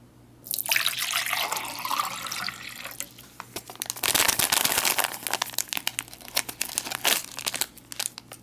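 Water runs and splashes into a tall glass for a vegetarian taco pasta MRE, a steady pour with crinkling packaging noises around it and a louder gush midway before trickling off.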